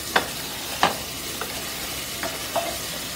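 Crushed ginger and garlic fry in a kadhai with a soft, steady sizzle, broken by a few light scrapes and taps as the pan is stirred.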